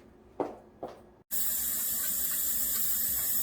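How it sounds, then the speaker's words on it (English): Tap water running into a sink while hands are washed after cooking, beginning with a couple of soft clatters, then a brief silence and a sudden steady loud rush of flowing water. "Now I'm going to wash my hands again because I touched the egg."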